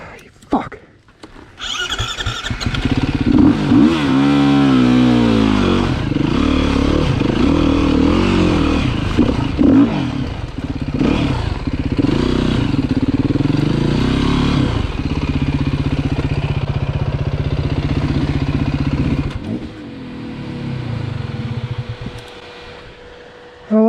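A four-stroke dirt bike engine revs and lugs while being ridden, rising and falling in pitch with rough low-RPM stretches, loud and close, with voices talking over parts of it.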